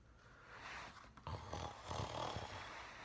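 A man reading a bedtime story aloud imitates snoring with his voice, giving a rough nasal inhale followed by rattling snore-like snorts, close and moderately quiet.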